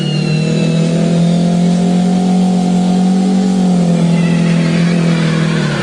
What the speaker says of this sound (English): Side-by-side dueling burnouts in our Hot Rod Semi class.